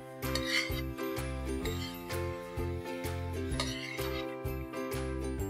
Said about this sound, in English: I'm going to saute these carrots till they turn a nice beautiful orange in color